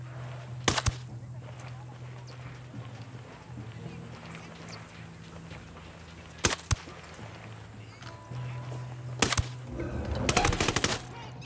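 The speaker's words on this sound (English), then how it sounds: "I'm gonna need you not to shoot your gun" Automatic gunfire from a Honey Badger rifle in the video game Ghost Recon Wildlands: several short, sharp bursts spread over the stretch, with a denser rattle of shots near the end over a low ambient game hum.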